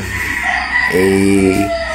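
A rooster at a Batangas game farm lets out one loud, close crow lasting under a second, with a low steady background hum and faint clucking around it.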